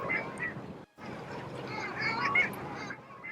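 Long-tailed ducks call in a noisy flock, a dense yodeling din of overlapping honking and quacking voices that keeps going with a brief gap near the start.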